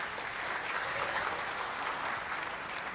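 Steady, dense applause from a student audience at a talk show event in Denpasar, Bali, filling the space evenly with no voices over it.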